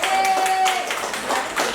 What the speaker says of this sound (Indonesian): Tepuk tangan Bapak Ibu untuk kita semua.